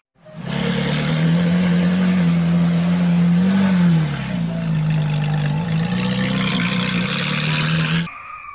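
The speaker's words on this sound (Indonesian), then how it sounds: "Ini supercar." A toy supercar plays its electronic engine-revving sound, a loud, close, sustained roar with shifting pitch that lasts about seven seconds before cutting off abruptly.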